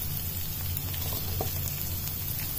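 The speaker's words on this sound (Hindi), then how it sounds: "मेरी मॉम सूखी उड़द दाल पे तड़का लगा रही है।" Steady, dense sizzling and crackling of cumin, asafoetida and dried red chillies frying in hot oil for tempering dry urad dal, close up and continuous with no talking.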